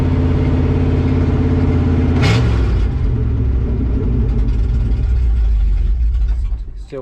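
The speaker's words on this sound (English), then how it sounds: "Gotta let it warm up. Go let it idle for a minute." A 1970 Ford F250 truck's engine idles roughly after starting while cold, a steady low rumble with a brief rev partway through and voices talking nearby.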